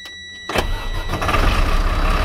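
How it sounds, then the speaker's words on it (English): Junk-removal truck engine cranking and catching after a faint quiet pause, then settling into a loud, rough idle that holds steady. "The engine started."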